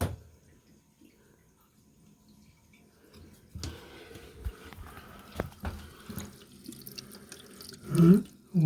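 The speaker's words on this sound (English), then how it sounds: "Right, water's coming in slowly." Water trickles and gurgles as it starts flowing into a toilet cistern, faint at first and then building into a steady low rush with a few soft knocks.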